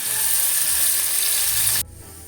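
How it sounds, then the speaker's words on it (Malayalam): Chicken with black pepper fries in hot oil, giving a loud, dense hiss that runs steadily for about two seconds and then cuts off abruptly. "ഓയിൽ ചൂടായിട്ടുണ്ട് ഇതിലേക്ക് ചിക്കനും കുരുമുളകിട്ട് ജസ്റ്റ് ഒന്ന് ഫ്രൈ ചെയ്തെടുക്കാം"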